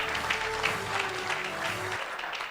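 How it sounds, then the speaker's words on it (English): Audience at a university health sciences gala dinner and award ceremony gives a round of applause, a dense steady patter of clapping that fades out near the end, heard alone without talk. "Let's give him a round of applause again."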